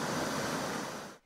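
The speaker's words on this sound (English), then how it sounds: "River Nzoia roars violently as the increased volumes of water sweeps everything on its path" Floodwaters of the swollen River Nzoia in Mdalani, Busia, roar in a steady, loud broadband rush that holds close and constant for about a second before cutting off abruptly.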